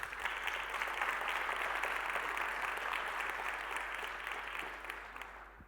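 Audience applause at a talk, sustained dense clapping that stays even for several seconds, then tapers off toward the end.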